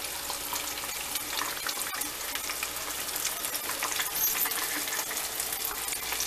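Buffalo chicken wings deep-frying in hot oil, a steady dense crackling sizzle that holds at an even loudness throughout, with no voices.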